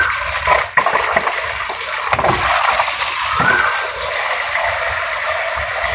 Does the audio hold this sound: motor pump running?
yes